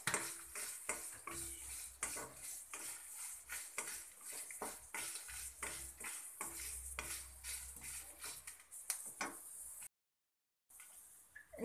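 Red chilies roasting in oil in a pan for lemon pickle, heard as a steady soft sizzle under repeated scraping stirs and clinks of a utensil against the pan, close and continuous.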